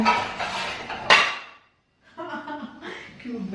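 Dishes and utensils clatter in a home kitchen, with several close, loud bursts of clinking and knocking, a brief quiet gap, then more rattling of dishware.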